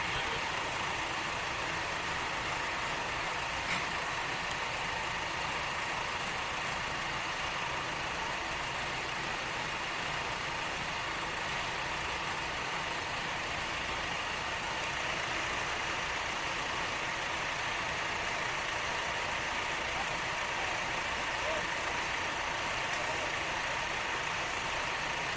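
Tractor engine idling at a farm competition, a continuous mid-to-low rumble that stays steady and unbroken for nearly half a minute with no talk over it.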